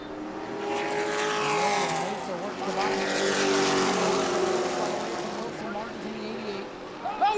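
Stock race cars roar around the New Smyrna track in a Sunbelt Series event, with loud overlapping engine drones and rising and falling revs throughout, under an excited announcer's commentary.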